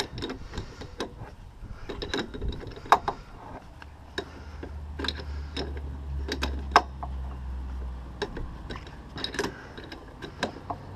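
Strut mount nut on a Mini One being undone with a ratchet: uneven bursts of close, sharp ratcheting clicks and metallic taps over a low hum, with no one talking.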